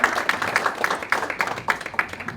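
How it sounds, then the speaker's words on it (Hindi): An audience claps together to welcome a priest after a Devi Bhagwat puja at a temple, with steady, fairly loud handclaps in a regular rhythm that fills the moment. "महाराज जी बहुत अच्छे से पूजा करवाई, तो ताली से उनका स्वागत आप लोग करें हमारी ओर से।"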